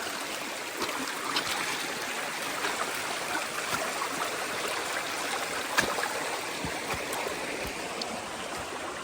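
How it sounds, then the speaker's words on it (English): A creek flowing along a forest trail, a soft, steady rush and trickle of water heard alone at moderate distance. "We can walk across the creek and see"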